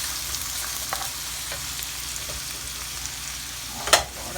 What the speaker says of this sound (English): So I'm going to let them saute a bit.